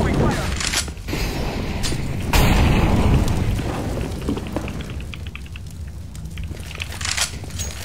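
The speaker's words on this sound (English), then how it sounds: "I'm throwing smoke. Mid lane. flashbang. Throwing fire!" A grenade or molotov fire thrown in a video game erupts in a loud crackling, rumbling burst that swells midway and then tails off into a hiss, with voices in the background.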